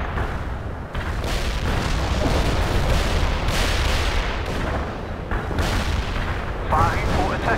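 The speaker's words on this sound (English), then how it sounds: "We can start a heavy barrage." Heavy artillery barrage in the video game World in Conflict, a sustained roar of rumbling booms and blasts that keeps going throughout, loud and dense, with game voices faintly under the bombardment.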